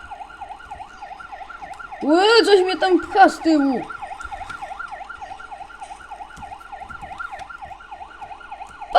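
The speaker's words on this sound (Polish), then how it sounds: "Czekaj, ta sygnały słyszę na bok," An emergency vehicle siren wails on the road in a steady, rapid up-and-down pattern that carries throughout, while a voice briefly speaks over it from inside a vehicle.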